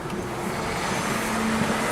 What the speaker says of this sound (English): I can't believe how much traffic there is this time in the afternoon.